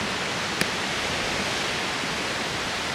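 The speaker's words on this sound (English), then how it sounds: "The river is very scary." A rushing river near Beni in Myagdi, Nepal, gives off an even, unbroken hiss of fast water that is fairly faint and steady throughout, with no voices.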